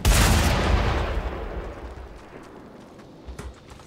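A single loud gunshot blast in the Mad Max video game, fired to shoot down wires, booming broadband and then decaying into a long rumbling tail, with a faint second thump near the end.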